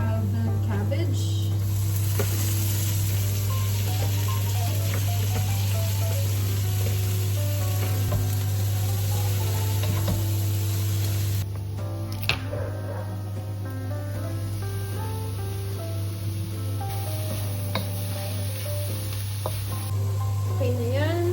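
Cabbage stir-fries in a pan with hoisin sauce, onion powder and garlic powder, giving off a steady, loud, crackling sizzle with occasional stirring scrapes throughout.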